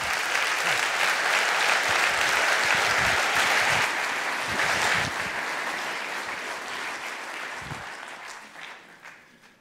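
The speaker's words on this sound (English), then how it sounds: "a great round of applause, Mr. Hans Rosling" Hall audience applauds Hans Rosling as he walks on stage at a talk, a loud, steady wash of clapping that slowly fades away toward the end.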